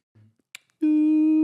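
Two faint clicks and a short rustle come first, then a steady telephone dial tone starts, a loud continuous hum that holds to the end.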